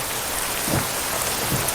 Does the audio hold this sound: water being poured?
no